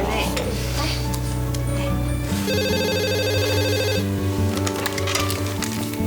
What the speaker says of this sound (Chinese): 小明打电话回来了。